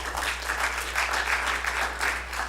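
Steady applause from a church congregation for the band at a Sunday service, a dense even patter of many hands lasting throughout with slight swells.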